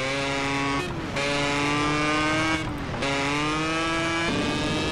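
A Yamaha RD motorcycle, tuned and modified, in GTA roars continuously at high revs with a buzzy harmonic engine tone, briefly dipping twice as the throttle shifts, loud and close with no talking.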